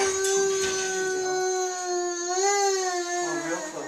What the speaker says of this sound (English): Look, it's puppies.